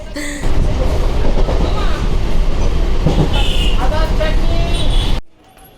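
Steady rumble and rattle inside a nearly empty passenger train while riding, loud and continuous, with voices talking over it before the sound cuts off abruptly near the end.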